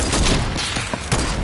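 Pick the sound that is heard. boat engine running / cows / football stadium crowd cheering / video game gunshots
video game gunshots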